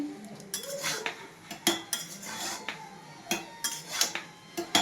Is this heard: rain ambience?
no